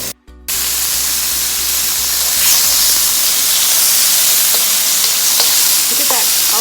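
Beef strips hitting a very hot oiled wok burst into a loud, steady sizzle after a brief clatter, the hiss staying strong and continuous through the stir fry with faint scraping.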